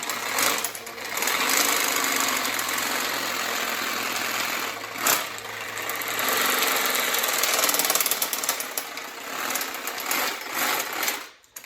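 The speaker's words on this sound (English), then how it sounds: "That's like 30 minutes worth of shaking right there in about 10 seconds." A machine shaker vigorously agitates a rattle can of spray paint for a Ford Bronco restoration, producing a continuous loud, buzzing mechanical rattle that runs steadily for about eleven seconds before cutting off abruptly.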